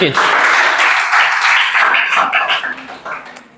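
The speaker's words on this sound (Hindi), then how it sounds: "ताली बजा दो।" Loud applause from a group during a police recruitment exam class, a dense burst of clapping that holds steady for a few seconds, then thins out and fades.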